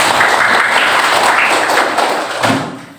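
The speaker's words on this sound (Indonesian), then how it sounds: "Oke, tepuk tangan semuanya." A class of students clapping together in a classroom, loud and close, a busy rattle of hands that fades and thins out toward the end with a few bumps.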